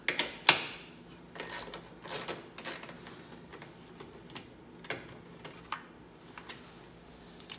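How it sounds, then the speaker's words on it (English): A ratchet with a 10mm socket and extension works the nuts off a coolant tank, with quiet irregular clicking and ticking, a few sharper metallic clacks early on and softer ratcheting taps after. "10mm socket with extension."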